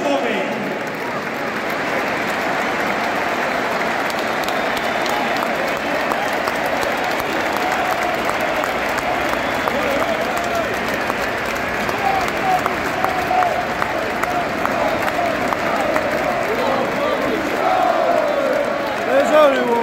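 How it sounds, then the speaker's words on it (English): Wembley Stadium football crowd holding a sustained minute of applause for Sir Bobby Charlton, a vast, continuous roar of clapping and cheering that stays steady and loud throughout, with distant voices blended in. "Please join us in a period of applause as we remember Sir Bobby."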